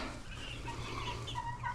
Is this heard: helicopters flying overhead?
no